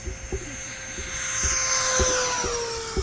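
A 70mm EDF model F-16 jet flies at half throttle, its ducted fan whining steadily with a slowly falling pitch as it passes, over light wind buffeting and brief knocks.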